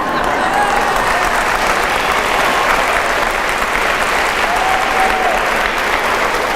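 Sustained, dense applause from an audience at a Catholic priest's talk on family, steady and loud throughout with no gaps or talk over it.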